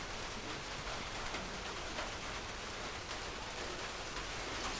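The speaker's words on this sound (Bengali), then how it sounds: "এখন বৃষ্টি পড়ছে ছাদে। সেরকম বৃষ্টি না, মানে হালকা বৃষ্টি পড়ছে।" Light rain falls on a rooftop, a faint, even hiss of steady drizzle with no distinct drops standing out and no voices.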